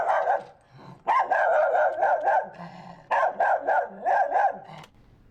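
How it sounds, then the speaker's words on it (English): A miniature schnauzer's barking, slowed and pitched down so the dog sounds bigger, comes in two loud bursts of rapid repeated barks with a short gap between, close and alone. "Play the authentic miniature schnauzer. And so here's the pitched down version."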